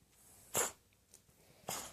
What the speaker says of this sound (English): I think he caught the foxy sneezes.